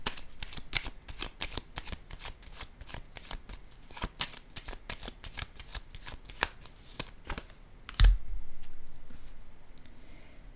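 Cards handled close up in a quiet room, a fast, steady patter of crisp flicks and slaps as they are riffled and shuffled, ending in a soft thud as one is laid down, then faint rustle.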